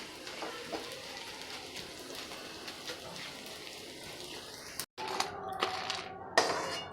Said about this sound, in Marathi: त्यामुळे थोडं थोडं टाकून तळून घेऊ छान मस्त फुलून आलाय आहे डिंक